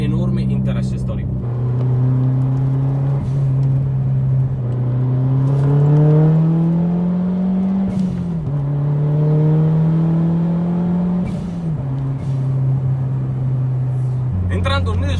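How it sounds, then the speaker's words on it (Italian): A 2002 Ford Focus RS WRC replica rally car drives with its engine droning loud and close, pitch rising and dipping through gear changes over the whole stretch. "la Focus RS che sto portando a spasso"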